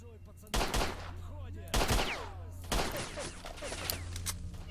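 Three loud gunshots from the video game STALKER: Shadow of Chernobyl, each a sharp crack with a ringing tail, spaced about a second apart over a low game hum.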